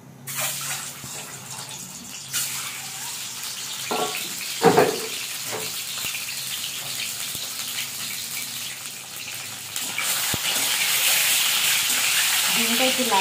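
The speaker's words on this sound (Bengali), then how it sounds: "মাখিয়ে রাখা ডিমগুলো আগে ভেজে নেব।" Marinated eggs fry in hot oil in a pan, with a steady close sizzle and a few clattering knocks of a utensil in between, the hiss growing louder toward the end.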